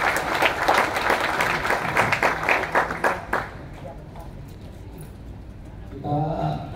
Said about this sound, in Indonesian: Kita berikan aplaus untuk Bapak Anies Mata.